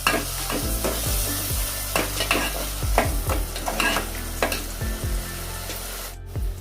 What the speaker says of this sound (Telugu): పచ్చివాసన పోయేదాకా వేస్తాను